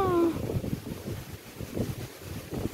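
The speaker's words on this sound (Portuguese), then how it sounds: "Que vento esquisito." Strange gusty wind before rain buffets the microphone outdoors on a street, a steady rough rumble with uneven surges throughout, loud and close, with no one speaking.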